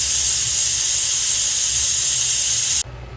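Steam blasts from a Ninja Foodi SmartLid pressure cooker on quick release, loud and continuous hissing close by, then cutting off abruptly after nearly three seconds, leaving only low background rumble.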